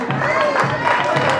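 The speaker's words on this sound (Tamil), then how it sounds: "மிகப்பெரிய கைத்தட்டல் கட்டலாம்" Applause from a church audience at a New Year prize draw in Trichy, a short burst of clapping mixed with crowd noise and voices, close and loud.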